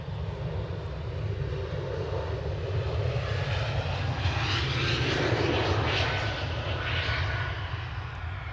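An Aer Lingus ATR turboprop idles on the apron after pushback, a steady loud engine drone with a low rumbling base and a slowly shifting propeller whine, heard alone.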